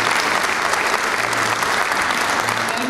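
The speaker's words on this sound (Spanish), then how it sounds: "El aplauso para estos dirigentes" Applause from an audience at a community leaders' day celebration in San Carlos, steady dense clapping with crowd murmur and a few voices rising through it, filling the whole stretch at a loud, even level.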